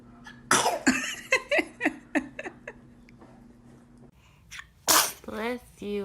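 A baby sneezes repeatedly, a run of quick, close, sharp little sneezes with short breaths between, then a loud burst followed by an adult voice speaking warmly nearby.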